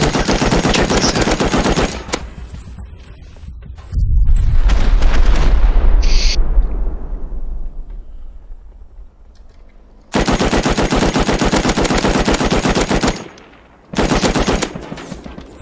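Video game machine-gun fire near a giant excavator, heard as loud rapid bursts: one opening burst, a heavier booming stretch, then two more sustained volleys separated by quieter gaps.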